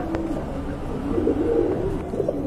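Pigeons coo in a low, steady murmur, several birds layered close by with soft repeated calls and no one speaking.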